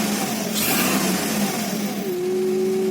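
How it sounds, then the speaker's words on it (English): 2003 Honda Accord V6 engine, restored after a cylinder head repair, revved once: the idle hum swells into a loud rising rev near one second, then falls back to a steady idle tone with no talk. "Give it a little rev."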